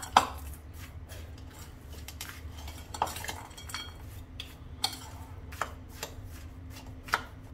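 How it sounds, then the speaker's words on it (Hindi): Panjiri being mixed with seeds and poppy seeds, giving soft, dry scraping and rustling from a spoon through the mixture, with occasional light clinks against the bowl at an even, unhurried pace. "ये सीड्स भी मिक्स कर देंगे जो खसखस और सीड्स रखे थे हमने और अब इसे अच्छे से मिक्स करेंगे"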